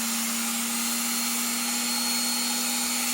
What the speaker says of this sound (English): turn the old Dremel on the slowest speed